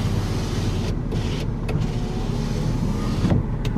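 Electric power windows on a car running one after another, a steady motor whir with brief stops and clicks between them, close and fairly loud with no talking.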